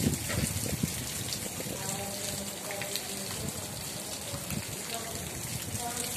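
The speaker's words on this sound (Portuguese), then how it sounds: "Chuva tranquila, chuva abençoada, chuva maravilhosa." Steady, heavy rain pours down in Irecê, Brazil, with a dense patter of drops splashing on surfaces, constant and enveloping.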